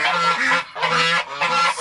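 Geese on a winter farm honk loudly and close by in three dense overlapping bursts, a raucous flock calling with brief pauses between.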